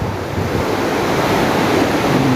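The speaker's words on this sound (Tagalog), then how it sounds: "lakas ng ulan o hmm." Heavy rain pours steadily onto a tarpaulin rigged over a wooden prop outdoors, a loud, dense, unbroken wash of noise with no voices.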